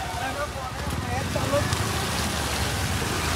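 Heavy rain pours steadily in a continuous hiss during an outdoor outing in Assam, broadband and moderately loud throughout.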